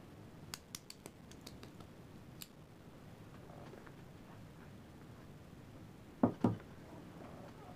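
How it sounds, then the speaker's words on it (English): A cigar cutter snips the end of a Romeo y Julieta Reserva Real 6x60 cigar, giving two quick sharp clicks close up after a few light ticks, against a quiet room. "let's get this bad boy cut up."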